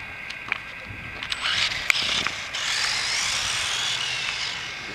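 Traxxas RC rally car's electric motor whines at a high pitch, rising and falling as it runs and then brakes, with a few sharp clicks and rattles near the car.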